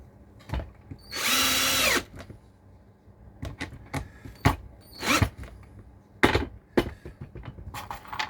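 A power drill drives screws through wood for a bridge diorama, with one loud sustained whir and several short bursts among scattered knocks and handling clatter, close by.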